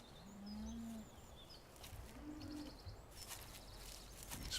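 Cows mooing in the video game Farming Simulator 17, two low drawn-out moos separated by a pause, with birds cooing and chirping faintly in the background.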